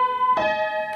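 Piano plays the opening notes of a song: a single clear note, then a struck two-note chord sustaining, with a faint third attack at the end; no talking.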